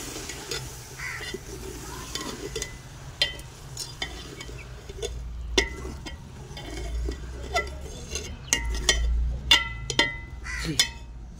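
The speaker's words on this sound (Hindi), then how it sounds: "गोभी जो मैंने डाल दी है, अब इसको हल कर लेते हैं अच्छे तरीके से" Cauliflower is stirred in a cooking pot for a village-kitchen curry, with repeated metallic clinks and scrapes of a spoon against the pot over a soft background sizzle.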